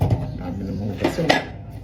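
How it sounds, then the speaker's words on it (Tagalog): Dishes, pots and cutlery being washed at a kitchen sink: scattered clinks and clatters of metal and crockery over running background noise, with a couple of sharper knocks near the end. "Dami namang hugasan."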